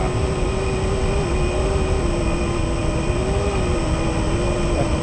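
RC J3 Cub model airplane engine at full throttle during a touch and go over marshland, a steady loud buzzing drone with a constant whine that holds without a break from start to finish.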